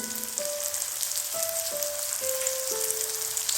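Peanuts with turmeric and garam masala sautéing in oil, giving a continuous even hiss of frying close by, with faint steady tones running underneath.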